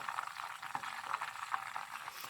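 Ghee simmering gently in a pan while it is being clarified, giving a steady close-up fizz of small bubbles with scattered soft pops throughout, no voices.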